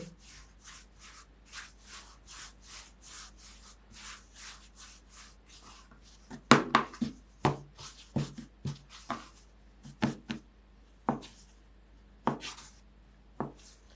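Dough for fried liver pies on kefir and soda being cut and shaped by hand: soft, regular rubbing and patting strokes, then a series of sharper knife chops and taps on a board, close and quiet, with no talk.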